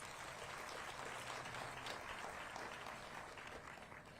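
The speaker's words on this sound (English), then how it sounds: "Give them another round of applause." Continuous applause from a crowd at a Virginia political event with the governor, steady clapping throughout at moderate distance, fading slightly toward the end.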